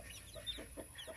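Young chicks on a farm give a few soft, faint clucking peeps in a short burst against a quiet background.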